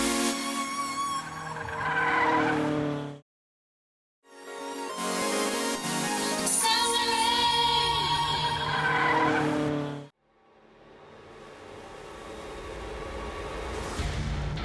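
Racing motorbikes at a Western Province Motor Racing Club short circuit event: loud, screaming engine passes come in three long bursts, with a sudden silent gap between them.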